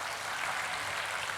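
A church congregation gives sustained, steady applause, a dense, even wash of clapping hands with no pause and no voices over it.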